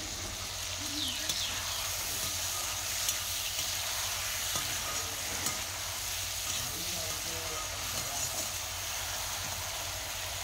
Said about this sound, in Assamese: বিলাহী জলকীয়া অকমান সময় ভাজি ললো